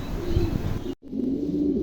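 A pair of fantail pigeons at a bird sale: low, throaty cooing close by, two short bursts separated by a brief silent cut, with no speech.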